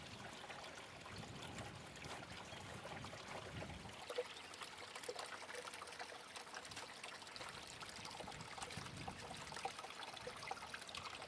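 A garden hose lets water trickle and dribble steadily for several seconds, a soft continuous splashing close by with no talking.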